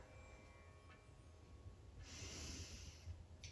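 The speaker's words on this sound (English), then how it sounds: "Long, deep breathing." Slow, deep yoga breathing held during a Kundalini locust pose, faint and close, with a soft airy exhale swelling in the middle and no talking.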